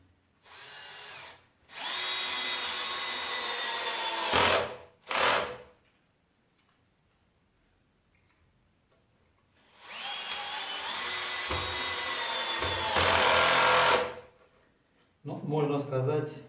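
Power screwdriver driving two wood screws, two long whirring bursts that rise in pitch, separated by a quiet gap, close up and loud, with brief speech at the end.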